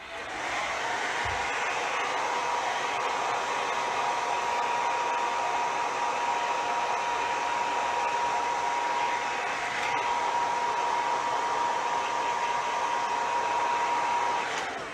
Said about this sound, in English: we're just going to heat it with a hair dryer